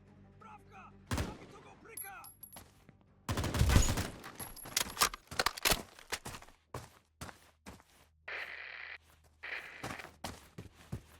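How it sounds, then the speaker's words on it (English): Video game gunfire with thermal vision: sharp shots, each stands out alone, clustered around the middle and scattered through the rest, with a shorter hissy burst near the end. The shots are fairly loud against a quiet background. "He didn't notice I was shooting him until the second shot hit the wall"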